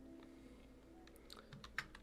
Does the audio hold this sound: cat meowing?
no